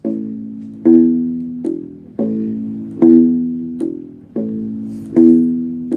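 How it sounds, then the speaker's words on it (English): A deep plucked U-bass plays a short repeating surf bass line, notes sliding between two pitches in a steady bouncy pattern, clear and alone. "Then we have the bass line."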